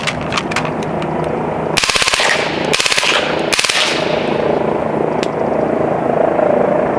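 Blitz Mini PCP airgun firing pellets in three rapid full-auto bursts of sharp, closely spaced cracks, loud and near over a steady background hum, with a single faint shot afterwards.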